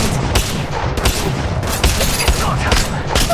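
Dense, continuous gunfire from the mobile battle royale game Apex Legends Mobile, rapid overlapping shots and bursts filling the whole stretch at a loud, steady level with no pauses.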